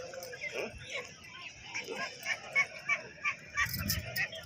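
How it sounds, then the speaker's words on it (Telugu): Native country chickens give a series of short, rhythmic calls, faint and a little distant, with voices in the background. "కోళ్ళు నాటుకోళ్ళు, కోళ్ళు నాటుకోళ్ళు"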